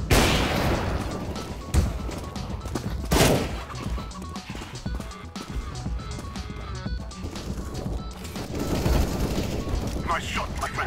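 Gunfire in the Counter-Strike: Global Offensive match, with dense bursts and shots throughout amid busy game noise and a voice over the action.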